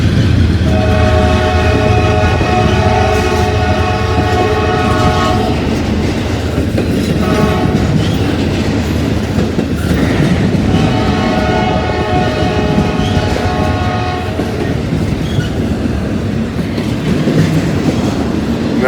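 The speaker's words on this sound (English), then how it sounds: "we're going to get the northbound version of the gondola train" A northbound freight gondola train rolls past loud and close, its wheels clattering steadily throughout while the horn sounds in two long blasts, one early and one in the second half.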